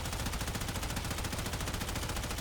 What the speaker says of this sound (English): This is a hit scan attack on an automatic rifle.